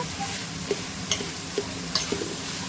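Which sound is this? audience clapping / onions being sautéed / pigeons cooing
onions being sautéed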